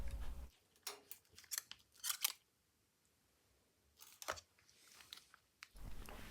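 Cutter snipping a Fender guitar string during a restring, crisp close clicks and short metallic rustles in bursts, with a quiet gap in the middle.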